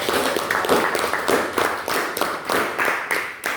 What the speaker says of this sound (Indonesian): Mari kita berikan tepuk tangan yang meriah kepada